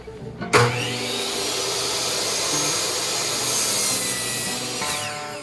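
A handsaw cuts through the wood of a new window stile in fast, continuous strokes. The rasping is close and loud for about five seconds and then stops abruptly.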